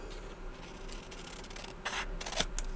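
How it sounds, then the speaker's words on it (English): Paper being trimmed for a handmade journal, soft rubbing and scraping strokes that end in a few louder, brisker cutting swipes, close and quiet with no speech. "I think I'm going to trim a little bit of that off."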